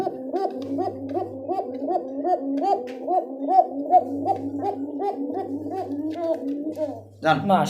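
Pigeons for sale, including Giribaz, Bombay, Danish and Rajgolla racer breeds, coo close by in a steady repeating rhythm of throaty hoots, several birds overlapping above a low intermittent hum.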